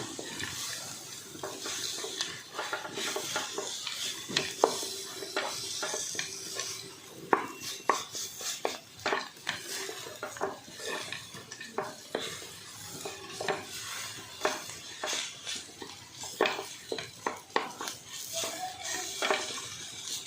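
Spiced coconut filling with cardamom and nutmeg powder is sautéed and stirred in a pan, with a steady soft sizzle and frequent scraping, clinking spoon strokes throughout.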